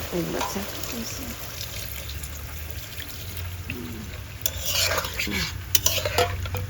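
Milk is poured into a simmering pot of rohu fish curry. A soft pour and splash follow stirring and a gentle bubbling sizzle, with faint voices nearby.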